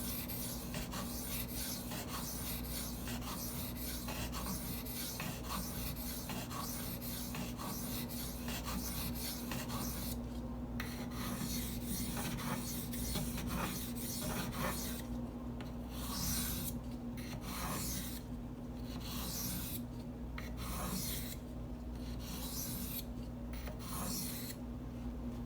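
A Spyderco Native 5 knife being sharpened on Gritomatic silicon carbide stones: a steady, continuous gritty rasp of the blade stroking the stone, later broken into rhythmic strokes with brief gaps, close and even, over a low steady hum.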